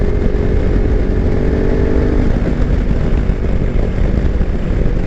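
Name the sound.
Kawasaki Versys X300 motorcycle riding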